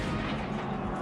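Heavy booming blasts of an early cannon rumble densely and loudly through the whole second, like sustained artillery fire with no voices.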